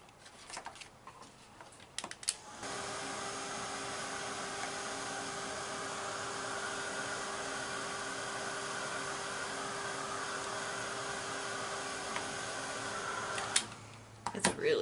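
A heat tool blows over an acrylic paint pour, its steady airy whoosh switching on after a couple of seconds, holding evenly, then cutting off near the end with faint handling noises around it.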